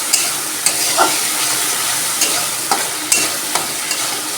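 Masala sautéing in oil for pabda fish curry, a constant close sizzle punctuated by regular scraping taps of a spatula stirring the pan, with no one speaking.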